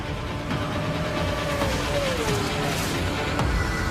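Kawasaki superbike ridden by Louis Rossi at racing speed, a steady engine whine rising and falling in pitch over a constant roar of wind and road.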